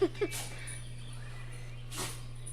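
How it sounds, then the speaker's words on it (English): A dog gives a couple of quick, soft sneezes, one early and one a moment later, over a low steady hum. "that's my dog, Masira, sneezing"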